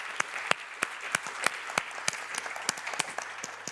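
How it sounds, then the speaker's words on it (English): Clapping at the closing session of the IAEA Scientific Forum on nuclear energy for climate: a moderate audience's applause with a few sharp, distinct nearby claps standing out over a softer background patter. "So we can give them, I think, a very warm round of applause."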